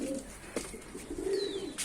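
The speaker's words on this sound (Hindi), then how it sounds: "तो ये हमारे जोड़े वाले कबूतर थे।" A pair of pet pigeons coo nearby, soft rolling coos at the start and again near the end, with a faint chirp between.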